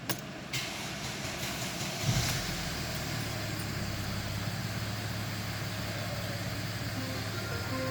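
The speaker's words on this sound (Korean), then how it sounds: "일단 이제 시동을 걸, 어 볼게요" A Mercedes-Benz ML280 with a newly replaced alternator starts with a brief crank after a jingle of keys, then settles into a steady, low, close idle that hums on unchanged.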